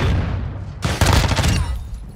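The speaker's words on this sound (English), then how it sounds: "I just got shot through the wall." Video-game gunfire crackles in a dense, close burst of rapid shots and booms, with a sharp fresh volley about a second in that dies away over the following second.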